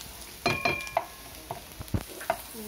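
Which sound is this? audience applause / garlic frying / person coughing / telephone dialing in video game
garlic frying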